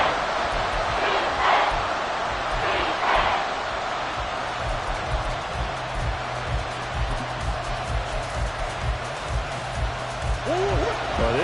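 A stadium crowd roars in a steady wash during a Madden football video game playoff, a sustained dense rumble under a commentator talking throughout.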